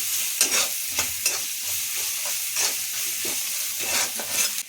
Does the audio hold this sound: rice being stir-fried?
yes